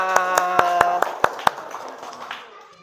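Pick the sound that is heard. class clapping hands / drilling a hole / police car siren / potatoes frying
class clapping hands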